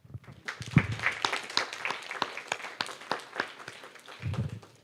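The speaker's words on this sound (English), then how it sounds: "So join me to give a big, hearty clap to the good work." Applause from a conference audience at the end of a session, a few seconds of scattered hand clapping that builds and then thins out, moderately loud in a room.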